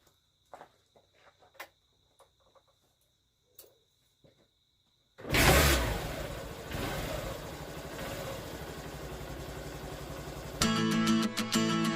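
After a quiet stretch of a few clicks and taps, a motorcycle is cold-started with the kick starter and bursts into a loud, close idle that runs steadily, then grows louder and more rapid.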